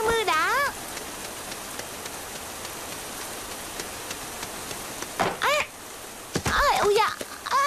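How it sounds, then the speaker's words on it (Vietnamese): Steady rain hisses throughout a Vietnamese-dubbed TVB drama scene, a constant even wash of falling water, with a voice breaking in a few times over it. "Trời mưa thật sao?"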